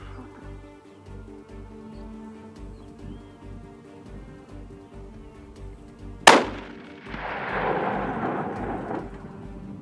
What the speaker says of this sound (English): I'll shoot.